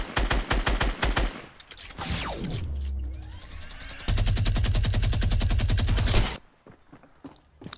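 Rapid, close gunfire rattles through a Fortnite Battle Royale match in quick single shots and long automatic bursts, with a mechanical whir between them, before cutting off into near silence.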